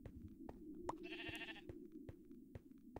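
Sheep bleating in a farming survival video game: a single wavering bleat, fairly close, amid soft ticking game sounds and a low background hum.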